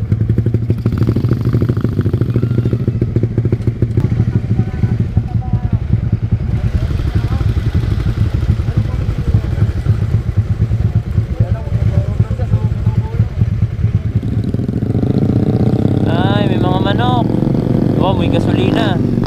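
A group of motorcycles rumbles nearby in Morong, Bataan, with a low, loud engine drone and some clatter that swells toward the end, while people talk over the noise.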